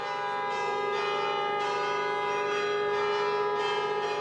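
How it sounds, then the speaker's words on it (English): Church bells ring steadily and loudly, with repeated strikes blending into a continuous resonant peal, rung by a local priest to celebrate a Ferrari race victory. "The local priest continued the long-standing tradition of ringing the church bells to mark Ferrari victories."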